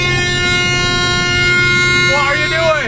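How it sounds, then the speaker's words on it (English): A combine harvester's horn blares in one loud, steady, unbroken tone for the whole stretch, with a voice rising briefly near the end. "Honking the horn."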